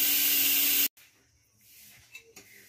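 A pressure cooker cooking chicken curry vents steam in a loud, steady hiss that stops abruptly after about a second, followed by quiet kitchen sounds.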